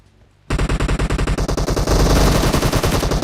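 Rapid automatic gunfire from the PUBG battle royale game rattles in a fast, loud, continuous burst of evenly spaced shots that begins abruptly after a brief quiet moment and keeps going to the end.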